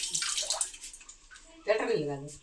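Municipal tap water runs at a house, a splashing gush heard in bursts close by while people talk over it.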